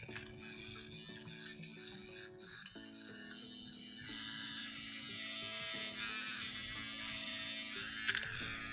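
A Manscaped Weed Whacker nose hair trimmer runs steadily throughout with a buzzing electric motor hum that shifts in pitch, close and fairly loud, with a harsh rattling edge as though a gear is damaged.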